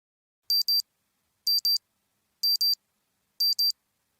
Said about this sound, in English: A beeping sound I'm not used to wakes me up